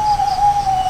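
A loud, sustained owl-like bird hoot rings out as one steady, clear call close by, with no voices over it.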